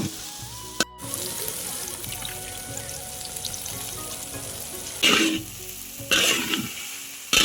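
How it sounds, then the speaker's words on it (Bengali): Masala-coated soya chunks sizzle steadily in hot oil in a wok, with a constant frying hiss and crackle broken by a short gap and two louder bursts of spitting near the end. "এবার আমরা তেলে ভেজে নেব।"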